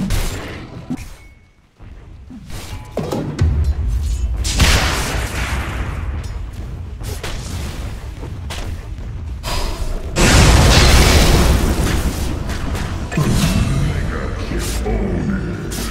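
Dota 2 battle: booming blasts and rumbling impacts as towers are attacked and destroyed, loud and continuous with a brief lull, then a heavier surge of explosions.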